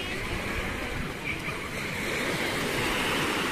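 Sea waves wash steadily along the shore at Turtle Cove on a morning swim outing, a continuous broad surf roar with some wind noise, loud and close with no talk.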